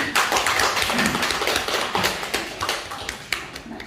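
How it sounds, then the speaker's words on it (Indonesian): Teachers and staff of SMA Negeri 2 Cilacap applaud at a school gathering, a close, uneven patter of distinct hand claps running throughout the few seconds and easing slightly toward the end. "Tepuk tangan semuanya"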